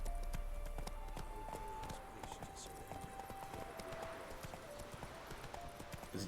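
In The Witcher 3, Roach, Geralt's horse, gallops with a quick, regular clatter of hooves over rumbling game ambience, close and continuous throughout.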